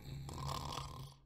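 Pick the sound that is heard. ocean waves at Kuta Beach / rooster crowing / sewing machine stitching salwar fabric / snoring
snoring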